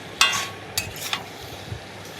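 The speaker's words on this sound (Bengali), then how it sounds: "এরপরে দিয়ে দেবো ভেজে রাখা আলুগুলো দিয়ে দিচ্ছি। আলুগুলো দিয়ে কিছুক্ষণ কষিয়ে নেব।" Fried potatoes tossed into a pan of chicken curry and stirred: a few short, close scraping and sizzling bursts, separated by quieter stretches, with no one speaking.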